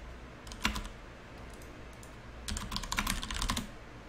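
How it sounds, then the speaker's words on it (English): Computer keyboard typing in two bursts of rapid, close clicking: a short cluster early on, then a longer run of quick keystrokes later, with no voices. "typing."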